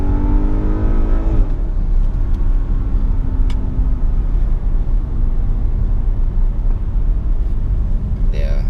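A sports car with about 680 horsepower, set to Sport Plus mode, rumbles and revs with a deep, steady engine roar heard from inside, with people talking over it.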